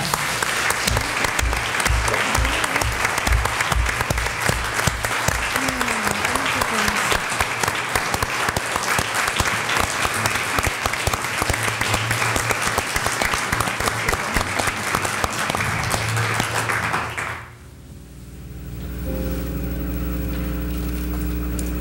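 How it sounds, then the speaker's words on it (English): An audience at a school board meeting bursts into sustained, dense applause that carries on steadily for about seventeen seconds, then cuts off abruptly and gives way to a low background hum. "Let's give them a big round of applause."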